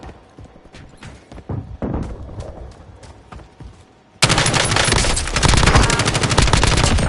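Warzone video game gunfire: scattered shots and bursts at first, then from midway a loud, dense, continuous automatic burst that fills the rest of the clip.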